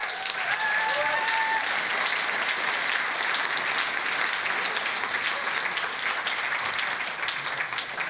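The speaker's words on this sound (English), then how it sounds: "And I think there will be one more big applause for the students" An audience applauds the students at the 2024 SGS Global Essay Competition, a steady dense wash of clapping that holds for the whole stretch, with faint voices underneath.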